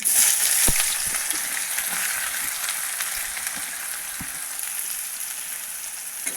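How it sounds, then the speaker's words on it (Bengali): Chopped onion sizzles in hot oil left over from frying fish for a Bengali fish curry, a steady close, bright crackle with an occasional soft stir or clink, no talk. "ওই তেলেই দিয়ে দেবো পেঁয়াজ কুচি।"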